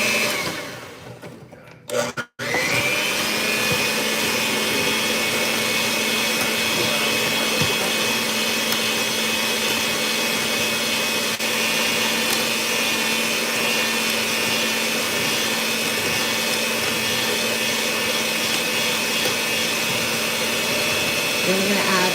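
An electric mixer whirs steadily through browned butter for chewy chocolate chip cookies, a loud continuous drone that starts after a brief clatter and holds unbroken to the end.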